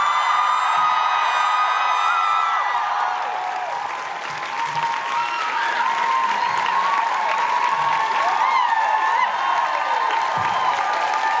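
A large hometown crowd in Vancouver applauds and cheers loudly and steadily for Jensen Ackles, with whoops and shouts rising out of dense, continuous clapping throughout.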